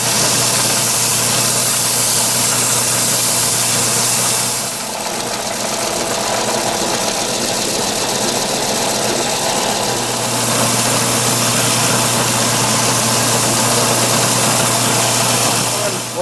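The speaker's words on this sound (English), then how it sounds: "I can sand the rest of that down on the belt sander" A belt sander grinds down a spalted wooden vase for a rustic wedding bouquet, giving a loud, steady whirring drone over a low motor hum that eases slightly for a few seconds midway.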